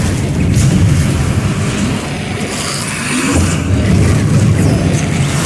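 A Bombarda blasting spell explodes in the video game Hogwarts Legacy, producing loud, rumbling low booms that swell and fade in two broad waves, with no voices.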